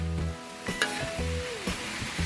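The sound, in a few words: chopped garlic and ginger frying in a pan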